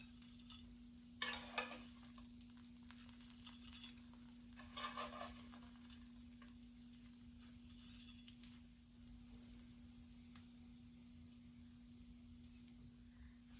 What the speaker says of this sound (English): I just did them right in the French toast pan. I'm just gonna add some hash browns on the side.